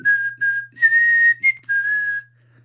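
A person whistles a short melody of several clear, bright notes in quick phrases, close and loud, ending abruptly.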